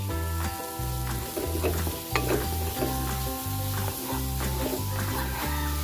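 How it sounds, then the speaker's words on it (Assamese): Steady sizzling of raw spices and cumin seeds frying in a hot pan, with repeated scraping and stirring strokes, close and continuous, over a low hum of background music. "এয়া মছলাখিনি ভালকৈ ভাজি ল'ব লাগিব"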